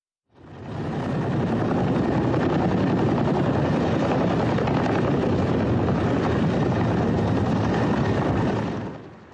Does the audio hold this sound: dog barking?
no